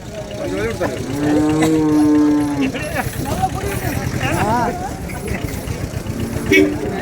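Cattle at the Vaniyambadi cattle market give a long, loud moo near the start, with further lowing later, over a busy crowd and someone talking throughout.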